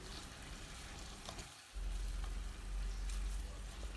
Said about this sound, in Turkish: Onu da içerisine ekliyorum ve şöyle biraz e, kavuruyorum.